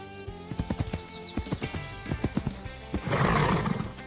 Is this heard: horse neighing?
yes